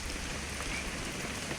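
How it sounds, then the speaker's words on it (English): Rain falling in the video game What Remains of Edith Finch, a steady, even hiss of rainfall that holds at the same level throughout with no voices. "It's gonna rain the whole weekend, isn't it?"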